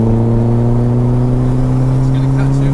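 A 360bhp turbocharged Mini pulling hard in fourth gear, a loud, close, steady engine drone with strong low tones, heard from inside the car.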